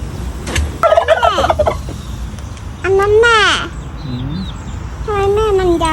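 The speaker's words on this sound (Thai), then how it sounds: "อันนี้คือไก่นะครับ" A chicken on a farm calls out several times in loud, warbling, gobbling cries from close by over a steady outdoor background hum.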